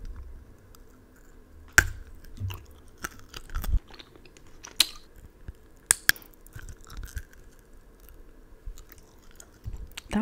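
Close-up bites and crunches of freeze-dried edible candy nails come as scattered sharp cracks and chewing sounds over a quiet background.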